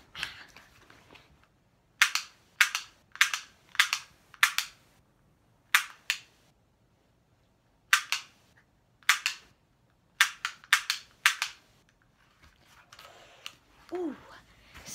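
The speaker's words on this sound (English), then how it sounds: "Time to do some shooting practice." Gunshots from shooting practice in a football video game, sharp loud cracks fired in quick bursts of three to five with short pauses between them, close and dry, with no talk over them.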